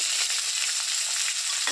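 Crushed shallots and garlic fry in hot oil with green chillies, a bright, continuous hiss and crackle as they are stirred in the pan.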